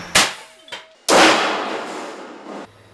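A test gun at the Los Alamos facility fires after a couple of sharp metallic clanks, letting out one loud blast that roars and rushes for over a second before cutting off.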